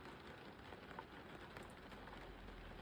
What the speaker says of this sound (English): the pitter-patter of the rain